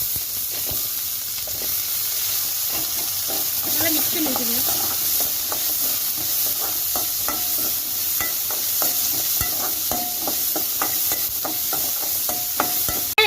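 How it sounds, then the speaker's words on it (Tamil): Garlic and onion sizzling with fenugreek seeds in hot oil for a fish curry, a steady hissing fry with intermittent stirring scrapes and light clicks throughout. "வெந்தயம் நல்லா பொரிஞ்சிருச்சு நம்ம பூண்டு சேர்த்துக்கலாம் வெங்காயம் சேர்த்துக்கலாம்"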